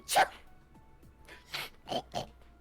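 A short sharp sneeze near the start, followed by a few soft snorts and throat noises, quiet and close.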